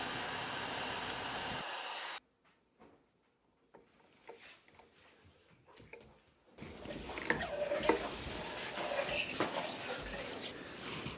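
A heat gun blows steadily on a red oak bow limb being bent, a continuous airy roar that cuts out, leaving quiet handling taps, then resumes loud and rough with faint crackles.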